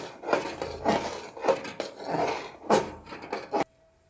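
A spoon scrapes and knocks around a pot as ginger paste is mixed into vegetable khichuri, in several close, rhythmic strokes that stop abruptly before a short quiet end.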